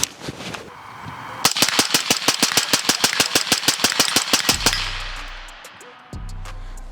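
Suppressed 5.56 short-barreled rifle with a 3D printed suppressor emptying a magazine outdoors, a fast even string of around twenty-five loud, close shots, followed by quiet and a few trailing sounds.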